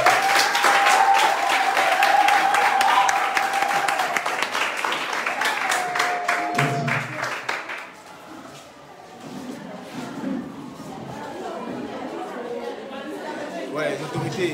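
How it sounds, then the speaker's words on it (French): A crowd at a community event handing out school kits to young mothers claps in a dense, loud burst for about seven seconds, then fades into general chatter and murmuring voices. "sous l'acclamation s'il vous plaît."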